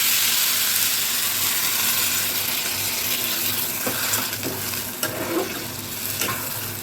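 Egg curry masala sizzles steadily in a hot pan as water goes in, giving a continuous loud hiss with a few soft stirring scrapes toward the end.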